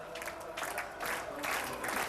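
A bowling crowd at a professional tournament applauds in surging waves of clapping and cheering that swell and ease, with faint talk underneath.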